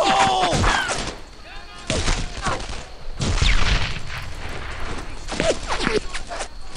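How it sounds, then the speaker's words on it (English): A grenade thrown amid heavy gunfire in the World War II shooter Brothers in Arms: Earned in Blood, loud bursts of shots and thuds cutting in and out around shouted voices. "I'm throwing a grenade! Fire in the hole!"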